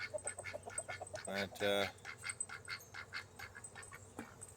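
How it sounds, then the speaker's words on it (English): A duck in a backyard poultry flock kept with roosters quacks in a quick, repeated series, with a couple of louder honking calls in the middle, while a person talks nearby. "the duck really has a problem with one of our roosters"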